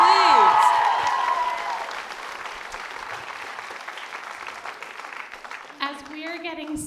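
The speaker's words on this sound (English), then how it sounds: "Let's give another round of applause for that amazing performance, please." Applause from a student matinee theater audience after a performance of Fat Ham, a broad sustained patter of clapping that tapers as a voice speaks over the start and end.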